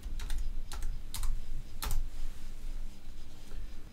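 A handful of keystrokes on a computer keyboard as a tag name is entered in Connected Components Workbench software, sharp clicks in quick clusters followed by a steady low hum, with no talking.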